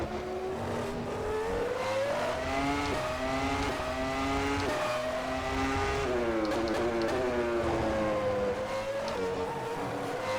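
A 1999 WCP Formula One race car in rFactor 2 laps at speed, its high engine note steady and loud, rising and falling through gear changes and corners without a break, no voices over it.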